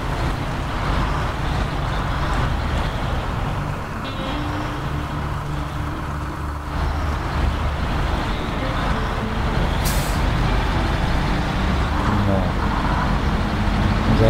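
A GMC truck engine in the SnowRunner game, a steady low diesel rumble that holds loud throughout with slight swells and a brief hiss, no voices over it.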